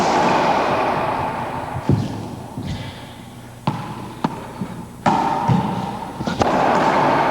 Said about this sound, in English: You see how the ball hits the front wall and then shoots slightly to the left side of the court?